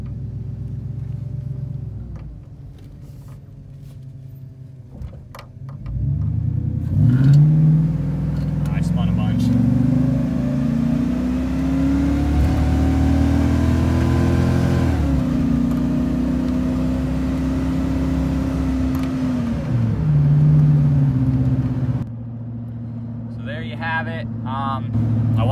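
A tow truck pulls through a 0-60 acceleration run, its engine droning and rising in pitch through the revs, dipping briefly at a shift and climbing again. The engine stays loud and close, with some talk in places.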